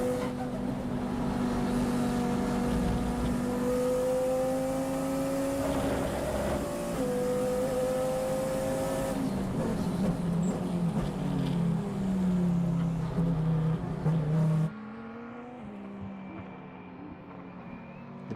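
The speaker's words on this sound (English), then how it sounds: "we jump on board with the KTM Crossbow," Onboard a KTM X-Bow race car during an FIA CEZ Endurance race at Slovakia Ring, the engine drones loudly throughout, its pitch climbing and falling through the gears before easing off near the end.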